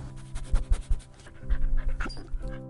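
Sled dogs, huskies, pant heavily in quick, close, uneven bursts with an occasional faint whimper, and no voices.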